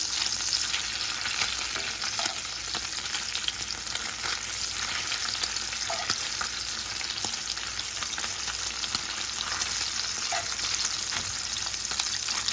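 Bacon strips fry in a skillet with a constant close crackling sizzle, scattered pops and occasional light utensil scrapes, no voices.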